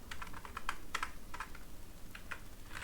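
Keystrokes on a computer keyboard while entering data in an Excel spreadsheet, quick irregular clicks in short bursts, close and fairly quiet.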